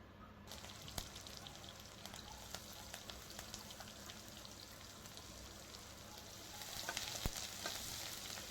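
Garlic frying in a hot pan for a lentil and greens dal, a steady soft crackling sizzle throughout with small pops and a few louder spits near the end.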